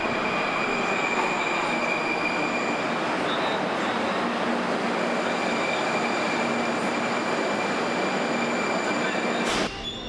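Moscow metro train running through a tunnel, a loud steady roar of rolling wheels with a high squeal, continuous for about ten seconds before cutting off abruptly.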